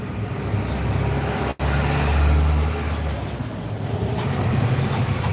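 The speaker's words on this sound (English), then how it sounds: "She loves watching all the cars pass by." Road traffic rolls past nearby, a steady engine and tyre rumble with a brief dip before another vehicle swells through, with no talking.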